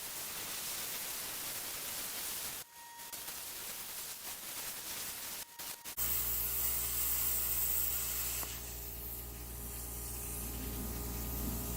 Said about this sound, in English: Might as well do all my plasma cutting at once, right?